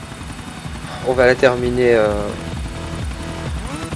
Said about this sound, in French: avec un beau coucher de soleil dans notre petit hélico de la gendarmerie